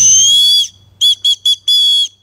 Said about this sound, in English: I've got a whistle.